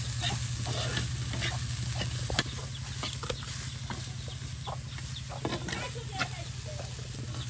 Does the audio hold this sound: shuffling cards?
no